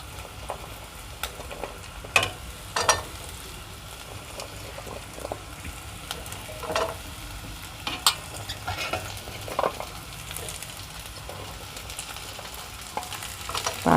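Small bitter gourd and reddening onions fry in a pan with a soft continuous sizzle, broken by intermittent scraping clicks of a spoon stirring, fairly quiet and without talk.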